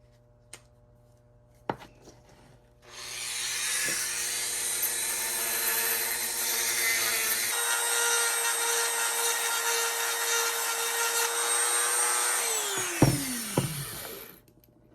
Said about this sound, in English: I am going to just clean up the inside of it with a Dremel a little bit